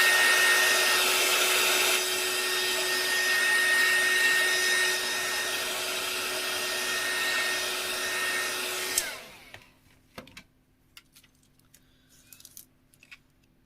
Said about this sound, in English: I'm just going to use my heat gun just to get this to dry quickly.